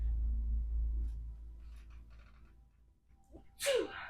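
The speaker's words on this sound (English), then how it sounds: "that was a sneeze" After a low rumbling lead-in, a single sharp sneeze bursts out near the end, loud and close.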